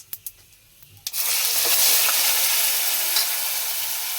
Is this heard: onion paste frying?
yes